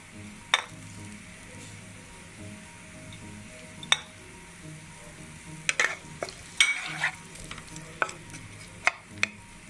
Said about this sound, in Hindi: फिर प्याज डालूंगी, लाइट ब्राउन करूंगी।